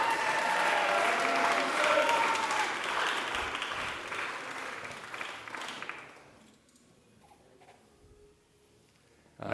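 An audience applauds the winners on the podium of a Queensland Open A female lead climbing competition. Loud, sustained clapping lasts about six seconds, then drops away abruptly into quiet.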